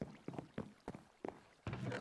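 Water sloshes and splashes in bursts around the moving Cutty Sark ship in a video game, several surges of churning water, fairly close, with no talking.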